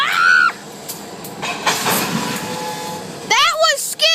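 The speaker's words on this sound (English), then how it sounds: "Holy crap, that train just crashed into that." A train crash, with rail rumble, metallic clatter and a loud screeching burst at close range, while excited voices shout over it.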